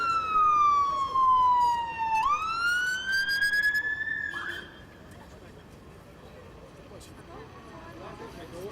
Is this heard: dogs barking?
no